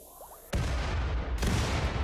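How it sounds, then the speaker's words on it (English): Big explosion in the Rimworld video game: a sudden loud broadband blast that hits hard and keeps rumbling, with a second surge of roaring noise a moment later. "That explosion was so big, I forgot how big those were."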